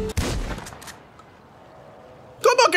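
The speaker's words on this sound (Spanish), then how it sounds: "Ok, disparemos un globo." A sharp gunshot at a balloon in GTA 5 opens, followed by a quiet stretch, then a quick burst of crackling shots near the end.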